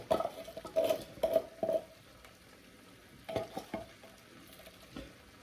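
Chicken and chorizo risotto stirred in a crowded pan, a spoon scraping and knocking through the thick rice in uneven bursts over a faint steady sizzle, close by with no talk.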